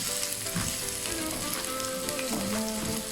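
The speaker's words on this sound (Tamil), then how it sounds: "4 நிமிடமாக வெங்காயம் பொரிஞ்சு கொண்டிருக்குது." Small onions fry with curry leaves and rampe leaves in a pan, giving a soft, continuous sizzle and crackle with faint stirring sounds.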